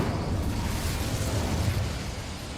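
Incendio fire spell cast in the video game Hogwarts Legacy, a dense roaring whoosh of flame that holds steady for a couple of seconds before easing slightly.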